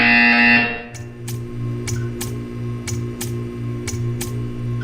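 Buzzer from the video game Portal 2 in a test chamber, a loud sustained tone that cuts off after about a second, then a steady hum with a regular ticking pulse of sharp clicks.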